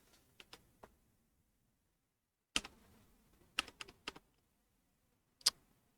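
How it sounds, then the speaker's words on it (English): Computer keyboard keys click in sparse, isolated taps and short clusters, fairly close and crisp against near silence, recorded during a Kerbal Space Program gaming session. "I don't know if you could hear my keyboard there."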